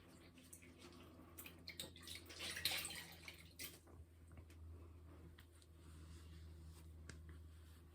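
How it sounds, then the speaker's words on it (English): Water splashes and drips as a cloth is wet and rinsed during the final rinse stage of a thermal detox facial peel, with soft, irregular sloshing and trickling close by and no talking. "I'm just going to wet my cloth again."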